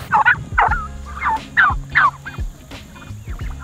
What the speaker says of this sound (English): Turkeys! They're one of my favorite animals.